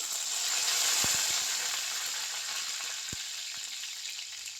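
Curry leaves and mustard seeds sizzle in hot oil for a Tamil pea and potato kurma, a steady bright crackle from start to finish with a few sharp pops and spatters, close by and with no talking.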